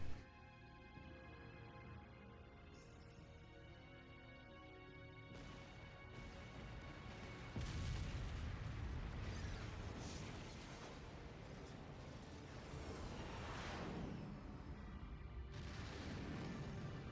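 Explosions and crashing impacts in the video game Asura's Wrath, a continuous rumbling barrage of booms and smashes that swells louder midway, with game music underneath and no talk.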